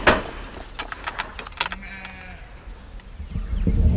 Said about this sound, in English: Here's our sheep.